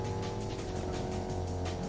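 A car driving in the Fortnite video game gives a steady, continuous engine hum with a low rumble that holds without a break, and no talk is heard over it.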